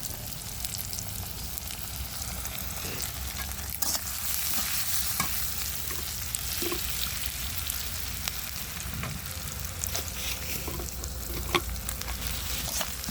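Crushed ginger, garlic, onion and bay leaves frying in oil for a duck egg and new potato curry, a steady close sizzle broken by repeated scraping and knocking of a spoon as it is stirred, no talking.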